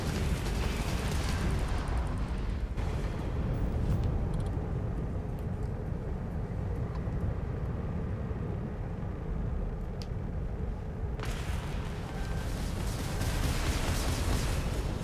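Heavy rumbling explosion in a space video game, a sustained roaring blast that dips a little in the middle before surging back loud, with no speech over it.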